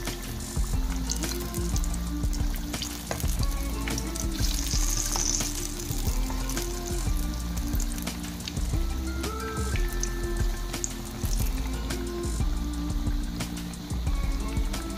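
Bajji fritters deep-fry in hot oil and get turned to cook both sides, giving a steady, dense sizzle and bubbling that runs the whole time without talk.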